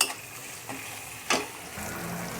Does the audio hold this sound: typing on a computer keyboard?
no